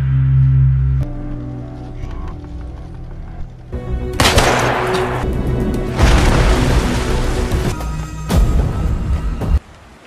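Several pistol shots crack out amid dense, loud bursts and booms, with a low rumble underneath before the blasts begin.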